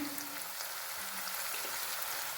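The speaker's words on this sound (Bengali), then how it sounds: "এবার আমি ভালো করে ভেজে নেবো এগুলোকে" Chopped ginger and garlic sizzle in hot oil for a Bengali rajma curry, a steady, dense crackle heard close and alone.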